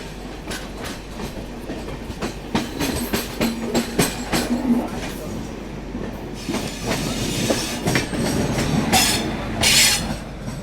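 The Sarnath Express rolls along the rails with a steady rumble, rhythmic wheel clicks and occasional brief squeals, heard close and loud from aboard with no talking.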